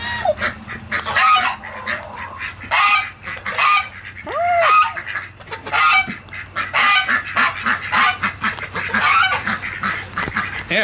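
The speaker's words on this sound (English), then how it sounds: "Goose is so noisy. That's an African goose." An African goose honks loudly and repeatedly in a rapid, clamorous series of harsh calls, close by and continuous, among other poultry.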